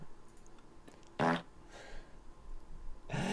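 Fart sound effects heard during a Magic Online card game session, two loud short bursts with a fainter one between them against quiet background.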